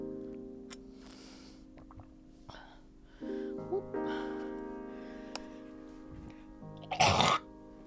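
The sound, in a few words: cough into the microphone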